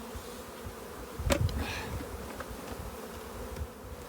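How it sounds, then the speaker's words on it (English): Soft, steady buzzing of honey bees clustering on the side of a hive, with a brief louder swell, droning close by under low outdoor background noise. "our bees clustering on the side of the hive"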